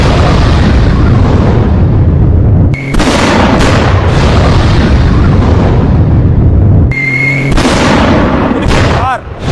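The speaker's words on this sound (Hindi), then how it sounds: "ये धमाका इतना भीषण था" A violent explosion in news footage of an Israeli strike on Iran, heard as a loud, sustained roaring blast that cuts off abruptly twice before surging back.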